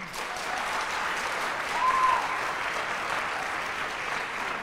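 Warm, sustained applause fills the room from a school drama audience honoring the student cast and crew after a high school stage production, a dense steady wash of many hands clapping with no talk over it.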